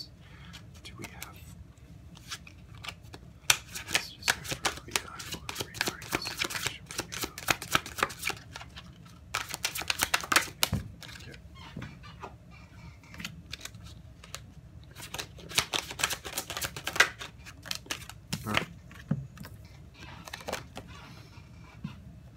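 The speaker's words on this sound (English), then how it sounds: "I'm going to pull a Dreams of Gaia card for going away advice regarding the situation" Dreams of Gaia oracle cards being shuffled by hand, a long run of crisp riffling and flicking bursts that pause and restart, with quieter rustling between and no talk over them.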